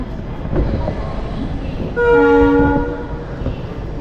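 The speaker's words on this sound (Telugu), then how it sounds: "ట్రైన్ అయితే బయలుదేరింది" The Tirupati to Vasco da Gama express rumbles steadily as it pulls away, then a loud horn blares for about a second, heard from on board amid constant rolling noise.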